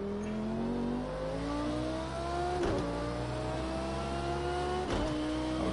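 A race car in Project Cars 2 revs its engine with a rising harmonic whine, broken twice by sharp gear-change blips as it downshifts, loud and close with no talk.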